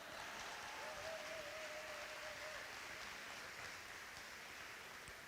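A large crowd at a fall university convocation gives a round of applause, a faint, distant, steady wash of clapping that continues evenly for several seconds.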